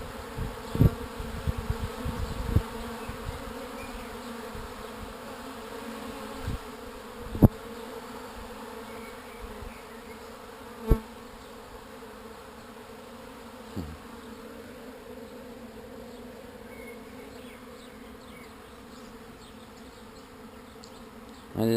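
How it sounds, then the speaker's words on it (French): A steady, droning hum of many bees buzzing close by, with a few faint knocks and clicks scattered through. "vous êtes parmi les abeilles."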